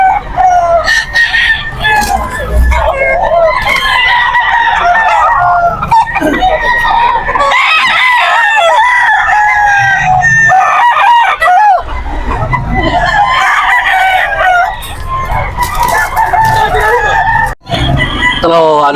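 Roosters, including bull stags, crow loudly and cluck at the Bocaue pet market. Several overlapping crows ring out close by, with clucking and market chatter around them.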